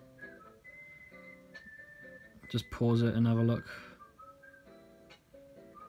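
A melodic whistled tune, a song from the Deadly Premonition soundtrack, plays in the background with a brief loud clattering burst midway while a person talks over it.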